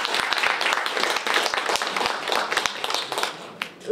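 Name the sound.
audience applause for speakers at a youth forum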